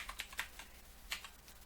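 Quiet, close keystrokes on a computer keyboard as a web address is typed into a browser: a quick irregular run of clicks, a short pause, then a few more taps, with no talking.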